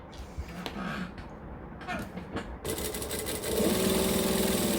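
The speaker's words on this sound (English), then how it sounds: "Alright, so I am going to top stitch it." A sewing machine topstitching fabric for a Maisie project with binding starts up partway through and whirs steadily and loudly to the end, with a voice speaking briefly before the motor begins.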